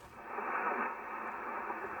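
Static-laden ham radio receiver audio, a steady band of hiss and noise with a faint, muffled signal swelling briefly in the middle and no clear voice.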